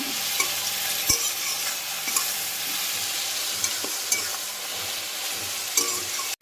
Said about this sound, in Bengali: সব দিয়ে একটু ভালো করে নাড়াচাড়া করে নেব।